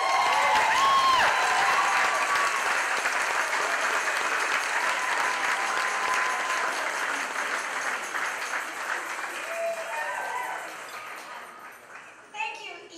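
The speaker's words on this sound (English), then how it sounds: "How about we give a round of applause to Mary Sue Tanis." Audience applause at an evening fundraising event, loud sustained clapping and crowd noise that gradually fades toward the end, with voices mixed in.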